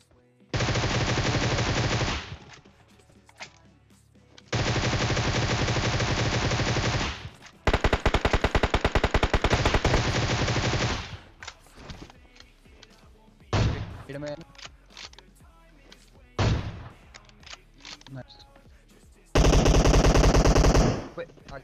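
Rapid automatic gunfire from the video game PUBG, several long loud bursts separated by short pauses, then scattered single shots and a final sharp burst, with no talk over it.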